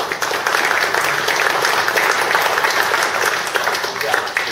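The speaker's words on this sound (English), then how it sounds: "give yourself a round of applause" Meeting attendees applauding in a room, a dense burst of many hands clapping together, loud and sustained for several seconds with a faint voice underneath.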